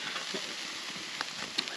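Flipped T-bone steaks sizzle steadily in a hot pan, a close, even hiss with small pops and crackles scattered through, no talking.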